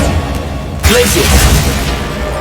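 A Glacius freezing spell cast in Hogwarts Legacy, a sharp sudden impact followed by a shimmering, crackling icy wash over low background rumble.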